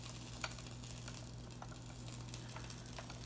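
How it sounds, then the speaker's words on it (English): Steady, dense sizzling and crackling of food cooking in a hot waffle iron, with faint scattered ticks and pops throughout. "Hear it sizzling."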